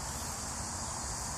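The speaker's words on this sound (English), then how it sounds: "because look at all these bees here" Honey bees swarm around an opened beehive during a check for mites with powdered sugar. Their buzzing is a dense, steady, close hum that fills the whole moment, with no voices over it.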